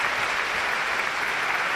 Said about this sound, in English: There's applause ring out this venue.